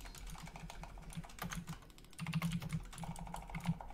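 Quick, continuous computer-keyboard typing with dense clicking keystrokes over a low steady hum during a World of Warcraft Tol Dagor dungeon run.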